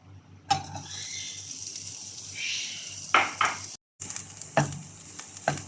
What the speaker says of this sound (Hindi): अब मैं इसमें ऐड करूँगी बारीक कटी हुई 1 मीडियम साइज़ की प्याज